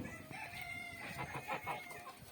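A rooster clucks repeatedly in short bursts nearby, mixed with other farmyard bird calls against a faint background hum.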